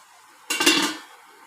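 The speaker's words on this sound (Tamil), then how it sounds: "இப்போ மூடி வச்சிடலாம்." A metal lid clanks onto a pot of mutton biryani with one brief close clatter that rings out quickly against a quiet background.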